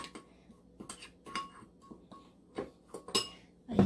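A spoon clinks and scrapes irregularly against a bowl while mixing a rice stuffing seasoned with oud oil, soft taps building to a louder clatter at the end.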